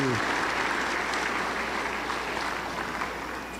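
Worshippers at a Pentecostal church in Cajamarca break into sustained applause, a broad, even wash of many hands clapping that fades gently toward the end, with no clear speech over it.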